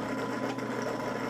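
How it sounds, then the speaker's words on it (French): Dreame L10 Prime robot mop base station sucking dirty water up into its waste water tank, a steady, close motorized pump whir that runs unbroken with no talking. "c'est l'eau qui est aspirée et qui remonte dans le bac à eau sale"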